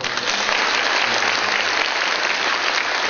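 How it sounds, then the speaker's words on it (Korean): A church congregation breaks into steady, dense applause during a Sunday service, many hands clapping together at even strength throughout. "우리 이렇게 기도에 응답하신 하나님께 감사의 박수"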